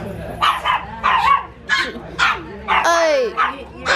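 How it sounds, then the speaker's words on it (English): Dogs bark in short bursts at a vintage and antique dirt mall. The yips and bow-wows come close and loud in an uneven series, with one whining, whimpering call partway through. "Hey, what are y'all barking at?"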